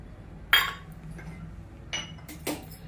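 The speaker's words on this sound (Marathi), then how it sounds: "एक वाटी डाळीचं पीठ घेतलेलं आहे दोन चमचे तांदळाचं पीठ घेतलेलं आहे आपण ते एकत्र करूया" A spoon clinks against a bowl while gram flour and rice flour are mixed together. There are three distinct, close taps over a faint background.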